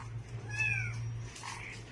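An angry cat lets out a drawn-out, strained meow, then a shorter cry, over a steady low hum; close and fairly loud.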